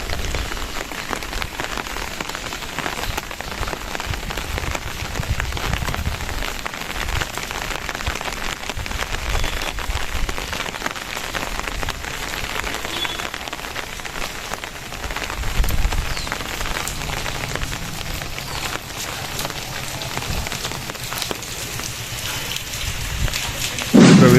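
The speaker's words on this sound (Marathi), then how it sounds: "जिथे कधी पाऊस नसतो तिथे नेमका आज पाऊस आहे" Heavy rain pours steadily and loudly throughout at the Kamala Bhavani temple in Karmala, a dense continuous patter with low rumbling swells underneath and no voices.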